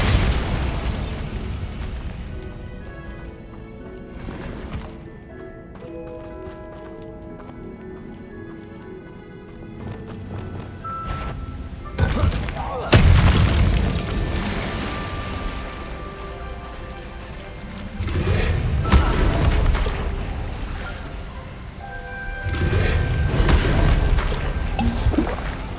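Bombarda spell blasts in the video game Hogwarts Legacy hit with heavy booming explosions, several loud bursts rising over a rumbling, crackling game soundscape of low drones and debris.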